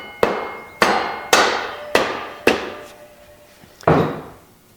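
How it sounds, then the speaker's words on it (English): A hammer strikes a washer five times in steady succession, pauses, then lands one final blow; each hit is a sharp, close metallic knock with a short ringing decay, heard alone during final assembly of a 350 engine. "We'll get a hammer. I've moved all my tools. Remember, we'll tap this down."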